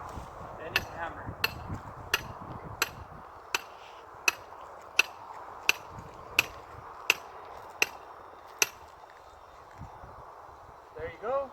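A hammer drives garden stakes into the ground in a steady series of about a dozen sharp knocks, evenly spaced, close, with a person speaking at the start and rustling at the end.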